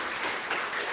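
Church congregation applauding in one continuous burst of many hands clapping together, moderately loud and blended into a wash of sound, with no talk over it.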